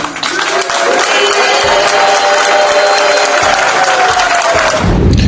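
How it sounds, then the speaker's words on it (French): A large assembly gives sustained applause with crowd acclamation and cheering, a thick, loud wash of clapping that holds steady for about five seconds. "Répondez par acclamation ou si oui."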